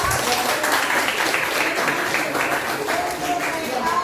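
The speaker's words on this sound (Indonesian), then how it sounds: "Iya, tepuk tangan ya." Students clapping in a classroom, a fairly dense round of hands that runs for several seconds, with a voice occasionally rising over the clapping.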